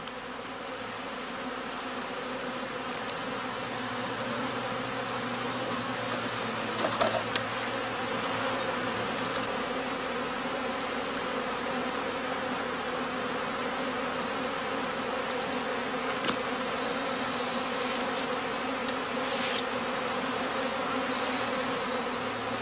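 Honeybees buzz around a traditional straw skep in the northern German heathland, a dense, steady drone that continues unbroken throughout, with a few faint ticks and knocks in the background.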